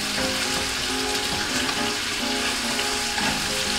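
Bacon frying in a pan full of grease, a steady dense sizzle with bright crackling spits and occasional louder pops, close and continuous throughout.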